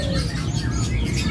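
A tame songbird chirps amid the busy background of a market bird kiosk, short bright tweets rising over a dense, steady murmur of crowd and other birds.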